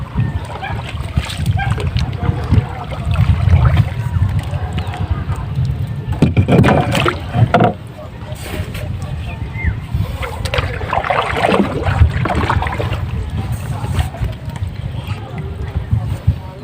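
A small bangka fishing boat moves across open water, with steady close splashing and sloshing plus wind rumble throughout, while people talk nearby.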